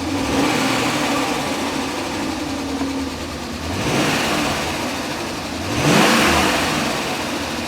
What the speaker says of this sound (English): But the motor is still rattling really bad.